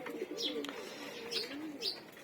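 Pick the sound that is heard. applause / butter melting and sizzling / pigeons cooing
pigeons cooing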